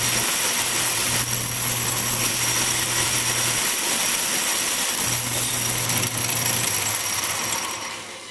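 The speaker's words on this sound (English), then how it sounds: "I'm going to go a couple more thousandths under to cut threads." An Atlas metal lathe cutting threads runs with a steady, loud machine whine and hum throughout, with slight shifts in a low drone and no talking.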